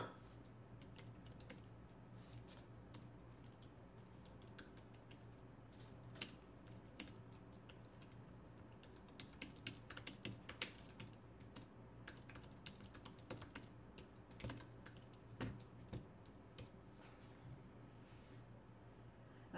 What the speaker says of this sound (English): I can type this out.